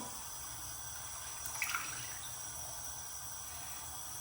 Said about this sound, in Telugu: దాని తర్వాత ఆ మిక్సీ జార్లో కొంచెం వాటర్ పోసుకొని ఇట్లా వేసుకోవాలి.